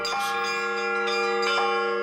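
Russian church bells ringing with strong, sustained tones and repeated clanging strikes overlapping one another, loud and close, with no voices heard.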